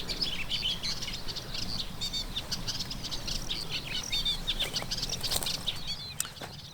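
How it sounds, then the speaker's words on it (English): Birds sing and chirp on a warm spring morning on Lesvos, a dense chorus of high twittering calls from several birds over soft wind and rustle, with no talking. "It's warm and the birds are singing."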